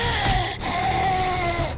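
A zombie cat in 7 Days to Die lets out a drawn-out, wavering yowl, loud and close, running continuously for under two seconds.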